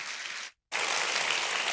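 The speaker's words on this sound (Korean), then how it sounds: "막 발을 굴르고 손뼉을 치면서 환호성과 함께 우리 목사님 환영하도록 하겠습니다" A church congregation at a Seattle downtown campus Sunday service breaks into dense, loud clapping and cheering to welcome their pastor. The noise cuts out abruptly for a moment, then resumes just as full.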